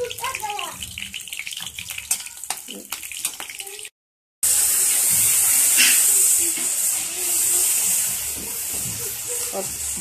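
Mustard seeds and chopped green chilies sizzle in a hot pan, a steady loud hiss that swells after a short break, with earlier stretches of talk over quieter cooking.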